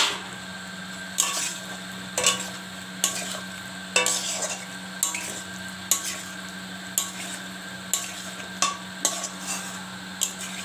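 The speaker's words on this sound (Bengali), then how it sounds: "এবার আমি এর মধ্যে মশলাটার মধ্যে ডিমটা কষিয়ে নেব।" Egg being stirred into spice paste in a pan, a soft sizzle punctuated by regular scraping strokes of a spatula against the pan, close and fairly quiet, with no speech.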